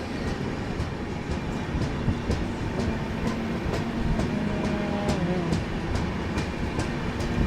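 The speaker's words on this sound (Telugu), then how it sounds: "ఆ ట్రైన్ స్టార్ట్ అయింది, మన ట్రైన్ స్టార్ట్ అయింది." Kondaveedu Express passenger train pulling away from a station, a steady close rumble of railcars with rhythmic clicking of wheels over rail joints and faint squeals running throughout.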